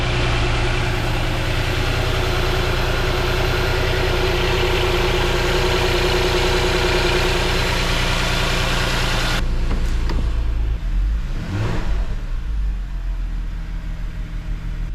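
A Porsche Cayenne 958 engine idles after a spark plug change with a steady, rumbling drone, then the sound shifts and thins partway through, leaving a quieter low hum. Nobody speaks.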